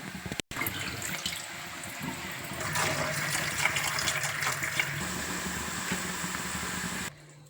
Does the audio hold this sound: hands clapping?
no